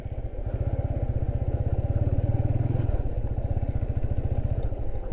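A motorcycle engine runs steadily and close on a rain-soaked village road near a rural market, with a loud, even low thrum that swells briefly in the middle before settling back.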